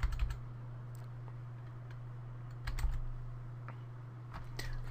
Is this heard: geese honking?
no